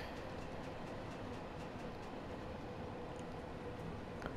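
A simulated London train runs between Harrow & Wealdstone and Elephant & Castle in Train Sim World 4, coasting downhill with power off, a quiet, steady rail rumble with faint high ticks and no talk.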